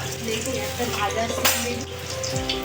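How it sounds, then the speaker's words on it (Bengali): Pakoras fry in hot oil with a steady, close sizzle, while someone talks over it and a brief sharp burst sounds midway. "কি ভাজছে তোমরা দেখো একটুখানি পকোড়া"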